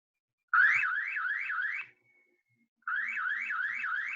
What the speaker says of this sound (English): Right, that's an alarm.